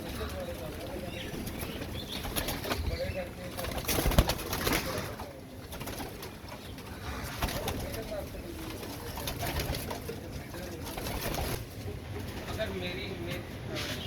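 Royal Teddy pigeons coo softly in a loft, with low murmuring calls under someone talking and general background bustle, faint and continuous throughout.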